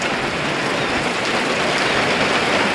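Heavy rain pours down during flooding on a goat farm, a loud, dense, continuous hiss of drops hammering surfaces with no gaps and no voices.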